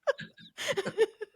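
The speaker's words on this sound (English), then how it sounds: "an involuntary hiccup from yours truly" A single involuntary hiccup bursts out, a brief sharp vocal catch, followed by a short ripple of laughter-like voiced sounds, all close and quick.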